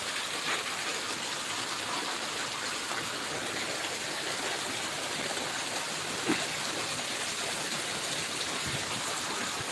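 Heavy rain driven by strong wind in a Punjabi village in Barnala district pours down as a dense, continuous hiss, steady and enveloping throughout, with no voices.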